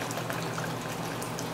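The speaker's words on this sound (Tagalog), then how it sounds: "Dagdagan natin ng tubig guys." Water pours steadily into a pot while cooking lomi, a continuous rushing splash with no talk over it.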